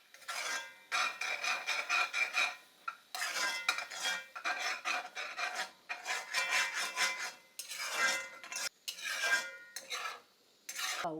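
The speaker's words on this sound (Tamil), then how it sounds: "நல்லா மிக்ஸ் பண்ணிக்கலாம்." Turmeric, cumin powder, Kashmiri chili powder and garam masala being stirred into an egg masala in a pan, heard as close, repeated scraping strokes of a utensil in bursts separated by short pauses, with no talking.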